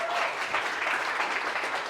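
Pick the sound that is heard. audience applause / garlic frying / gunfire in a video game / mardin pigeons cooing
audience applause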